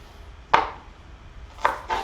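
A kitchen knife chops green onions on a board with three crisp, close knocks: one single strike, then a quick pair near the end. The cuts are spaced apart against a quiet background.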